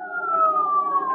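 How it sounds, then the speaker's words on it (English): A police siren sound effect from a 1945 radio comedy wails in a steady, sustained tone, loud and close, alone for about a second. "Sounds like a police siren,"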